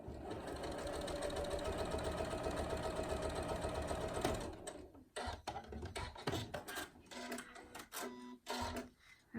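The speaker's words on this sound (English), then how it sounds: "Sew on the line." A sewing machine runs steadily, stitching fabric for a tool wrap: a fast, continuous mechanical whirr and needle chatter for about four seconds, then stops, followed by close handling clicks and fabric rustles.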